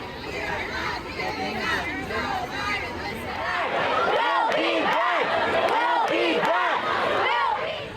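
Protest crowd dispersing in the rain outside the White House, a steady wash of chatter and murmuring voices with scattered shouts, growing denser and louder partway through.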